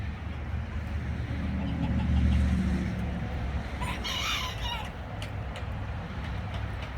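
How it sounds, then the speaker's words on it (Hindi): A rooster crows once in the middle amid faint clucking of chickens at a farmhouse in the USA, over a steady outdoor rumble of a distant engine. "ये अली मुर्गियों के पीछे भाग रहा है अंदर"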